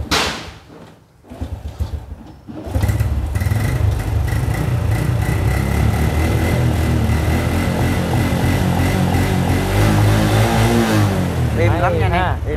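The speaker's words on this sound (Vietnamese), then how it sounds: "Để anh nổ máy cho anh em mình nghe luôn." A used Japanese motorbike with an original engine kicks into life after a short pause and then idles steadily and fairly loudly nearby, a smooth even rumble with voices speaking over it at the start.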